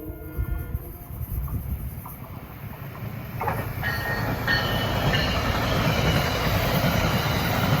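A Metro-North train passes on the Hudson Line, a loud, steady rolling rumble that swells and stays heavy through to the end, with no voices.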